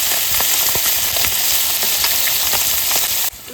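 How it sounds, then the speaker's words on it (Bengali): Pointed gourd frying in hot oil, a loud dense sizzle with crackling pops throughout, cutting off sharply near the end. "আর পটলটা ভাজা করলে হয়ে যাবে"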